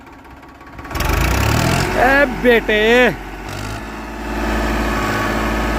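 A tractor engine running in a field in third gear swells to a loud, rumbling drone, with someone shouting briefly over it before the engine settles into a steady hum.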